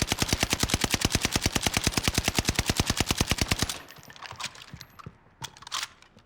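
Loud, fast automatic gunfire fired through a wall in a Call of Duty match, a steady rattling stream of shots for several seconds before stopping, followed by scattered quieter game sounds.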